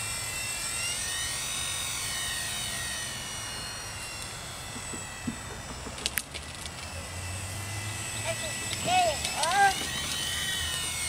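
A small Blade MSR remote-control helicopter whines steadily outdoors, its rotor buzz rising and falling in pitch, while a voice speaks briefly over it near the end.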